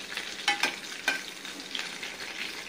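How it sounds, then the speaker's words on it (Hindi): Green chillies, slit and dropped into hot oil in a pan for a dhokla tempering, sizzle and crackle steadily, with a few sharper pops standing out early on. No voices. "फ्राई होने देंगे, हल्की से फ्राई होगी।"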